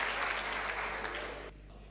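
A college audience at a Hindi comic poetry gathering claps in a dense burst of applause that fades out abruptly, leaving a low steady hum beneath.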